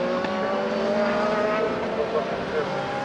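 Superlights race cars roar down the straight at Zandvoort, a steady loud engine drone with layered tonal whine throughout, under a race commentator's voice.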